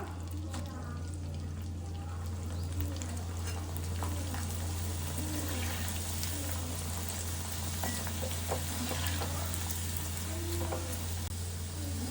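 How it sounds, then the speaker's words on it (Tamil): Leftover rice vadas deep-fry in hot oil, a constant close bubbling sizzle with a low steady hum underneath. "இப்போ எண்ணெய் நல்லா காஞ்சிருச்சு, பொரிச்சு எடுத்துக்கலாம்."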